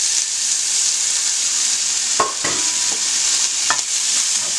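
Kimchi and pork sizzling in a frying pan without oil as they are stirred together, steady loud frying hiss with a few sharp scraping clicks of the utensil against the pan, no talking.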